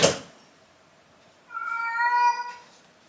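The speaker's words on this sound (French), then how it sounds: "va miauler dans la chambre" A house cat gives a single clear, drawn-out meow, close and fairly loud, after a brief thump at the start and a moment of quiet.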